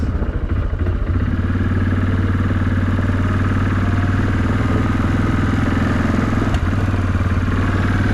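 A Yamaha Kodiak ATV engine runs loud and close, a rough, steady mid-pitched drone with slight uneven flutter as it labors under throttle, with no talk.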